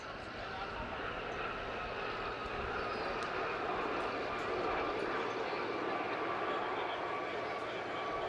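Gazelle helicopters flying in formation at the Wales Airshow, heard as a steady, broad rotor and engine roar that swells slightly midway, with faint crowd or commentary sounds mixed in.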